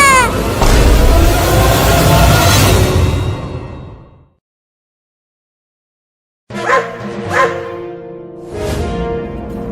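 Two dogs barking in loud bursts that are close, then a few seconds of silence, then more sharp yips and barks.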